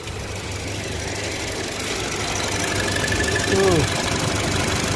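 A car engine idles with a steady, smooth hum after a part replacement, heard close and continuous, with a faint brief squeal near the end.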